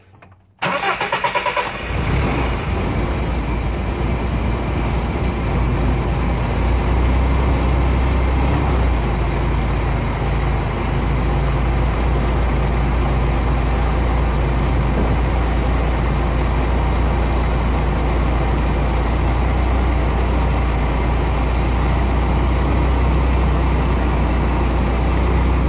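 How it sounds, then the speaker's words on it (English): A BMW E30 engine cranks and catches right at the start, then settles into a steady, loud idle with the air conditioning engaged, holding a constant low drone throughout with no talking. "I'm going to go start the car and engage the aircon"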